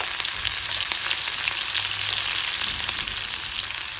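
Green chili frying in hot oil with mustard seeds and garlic, giving a loud, continuous, close sizzle with faint crackles and occasional stirring scrapes underneath.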